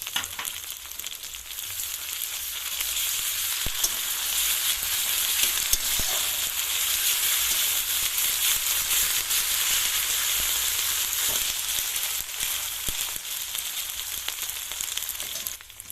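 Sliced onions frying in a pan with ginger-garlic paste added, a steady close sizzle and crackle running throughout with occasional stirring ticks and no voices.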